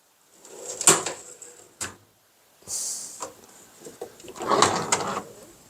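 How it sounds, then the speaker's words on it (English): A secondhand tool chest drawer slides open and shut several times, with metallic rolling rasps and thuds, close and fairly loud, separated by short pauses. "Now that's a nice drawer there."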